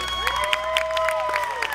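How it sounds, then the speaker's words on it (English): Applause and some cheering from a county fair crowd at an illusion show, with scattered sharper claps and a sustained tonal voice over the clapping. "And Pierce, this round of applause is for you"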